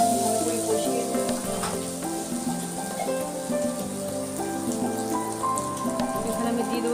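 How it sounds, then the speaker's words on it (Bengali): Ground cumin and pepper sauté in a hot pan, giving a steady close sizzle with light crackling and occasional stirring, while quiet music plays in the background. "এই গুঁড়ো মশলাগুলো দিয়ে আমি এটা আবারও কিছুক্ষণ ভালো করে কষিয়ে নেব।"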